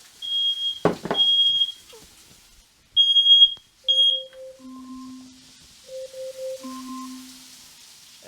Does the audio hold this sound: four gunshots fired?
no